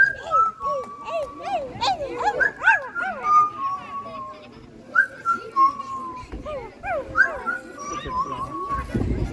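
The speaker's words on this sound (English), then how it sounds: "He loves to whistle and sing." A parrot at a wildlife safari park in Ontario whistles and sings an improvised tune. Its sliding whistled notes come in bursts with short pauses, close and clear over faint background noise.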